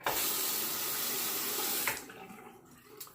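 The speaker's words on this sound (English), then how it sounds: "Let me wet the razor here." Tap water runs steadily into a bathroom sink while a razor is wetted for a wet shave, a loud, even rush that cuts off and leaves a few quiet drips and clinks.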